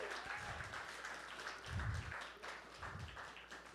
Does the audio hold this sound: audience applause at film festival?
yes